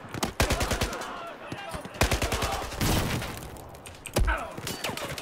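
Rapid bursts of automatic gunfire and single shots from a Battlefield 4 firefight, loud and close, with sharp cracks clustered around the start, middle and end, and muffled impacts between them.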